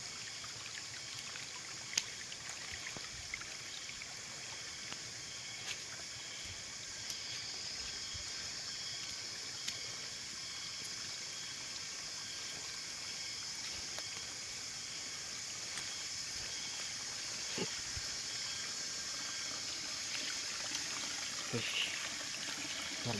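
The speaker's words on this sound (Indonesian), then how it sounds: "Sungainya guys." A swollen mountain river rushes over a rocky streambed, producing a steady, even wash of flowing water that holds a constant level throughout, with no other prominent sounds.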